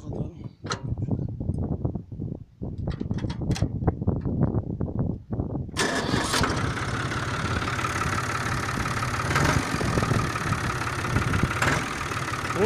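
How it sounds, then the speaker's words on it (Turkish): A New Holland 50C tractor engine cranks and catches, then settles into a loud, steady diesel idle that runs on continuously, with people talking nearby before it starts. "Şimdi traktörü çalıştıralım."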